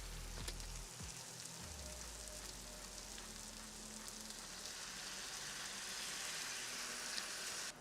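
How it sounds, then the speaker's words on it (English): Bacon jam with apple cider vinegar, brown sugar and maple syrup simmers in a pan, giving a soft, steady bubbling hiss after a brief low clunk at the start. "now we're just gonna let this sit here and simmer for 10-15 minutes."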